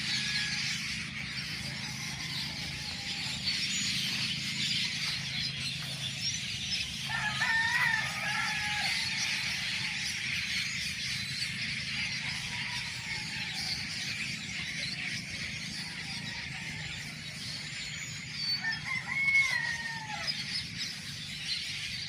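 Birdsong and calls near a creek in the early morning, including what sounds like a rooster crowing, carry as a steady chorus over continuous background hiss with a few louder, clearer calls standing out.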